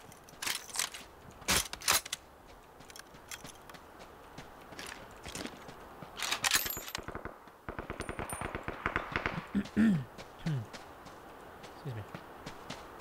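Gunshots aimed at the player in Ring of Elysium: scattered sharp cracks early on, then a tight run of rapid automatic fire, with someone talking over the action.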